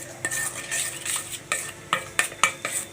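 A spoon scrapes and clinks against a bowl while paneer tikka marinade is stirred, a series of close, sharp metallic taps and soft swishing mixing strokes with no talk.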